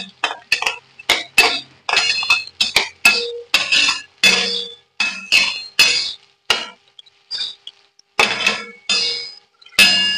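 A metal utensil clinks and scrapes against a pot while chilies are fried, in repeated sharp, close, bright strikes in irregular bursts with short pauses between.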